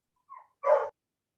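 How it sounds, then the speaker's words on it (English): Dogs greeting a neighbor: a faint short yip followed by a single louder bark, brief and close, then silence. "Hopefully my dogs, you're getting to hear their greeting of my neighbor."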